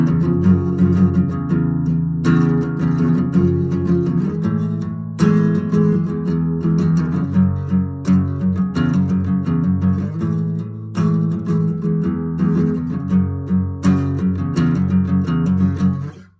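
A guitar strums chords in steady, rhythmic, ringing strokes that change chord every few seconds and carry on alone for about sixteen seconds before fading.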